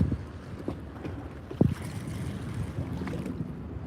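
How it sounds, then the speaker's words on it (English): Steady wind blowing across a lake toward a wind-blown point during bass fishing, a broad low rumble of gusts and water noise with a brief louder knock partway through, no talking. "The wind is blowing into the point."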